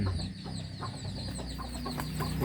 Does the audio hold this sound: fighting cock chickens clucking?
yes